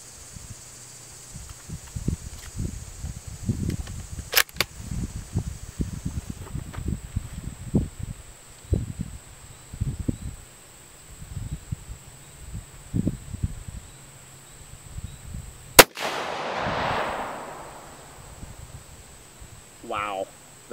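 A Savage 110 Tactical rifle in 6.5 Creedmoor fires a single loud, sharp shot late on, followed by a brief rumbling tail, after a stretch of someone talking nearby.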